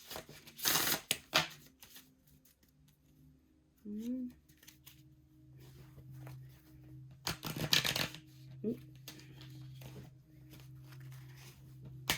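Crystal oracle cards being shuffled in two short riffling bursts, close and crisp, with quiet pauses and faint handling noises between them.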